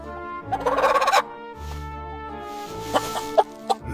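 Animated hen calls from a 3D animated fairy tale, a burst of rapid clucking and gobbling squawks followed by a few shorter cackles over a low background hum.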